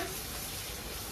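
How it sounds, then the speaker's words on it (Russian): Dough with meat frying in a pan at home, a dense, even hiss of sizzling fat that stays constant and fairly quiet throughout, with no voices. "Здесь жарится."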